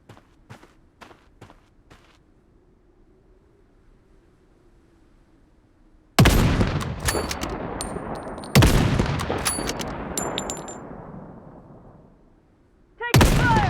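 Gunfire in the Blood Strike video game, with a few faint clicks and footsteps at first, then loud, close bursts of shots that ring out and decay, followed by another burst at the end.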